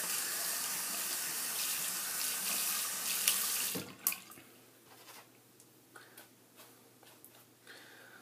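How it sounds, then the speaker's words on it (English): Steady rushing tap water runs over a badger-hair shaving brush for about four seconds, then cuts off, leaving soft drips and faint trickles in a quiet room. "I'm just going to rinse the brush off real quick"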